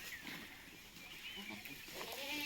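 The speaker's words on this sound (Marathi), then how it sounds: "आपल्याकडं सोजत आणि उस्मानाबादी या शेळ्या आपल्या समोर आहेत" Sojat and Osmanabadi goats in a farm shed bleat faintly in the background amid steady noise, with a quiet voice talking nearby.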